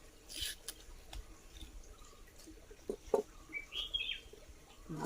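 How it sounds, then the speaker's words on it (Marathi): Wild birds calling in a forest during breeding season: scattered chirps and short tweets at varying distances, some faint and far, a few brighter calls close by, over a quiet background with no talking. "पक्ष्यांचे आवाज खूप येतात जंगलात"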